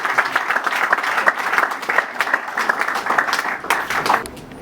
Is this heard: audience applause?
yes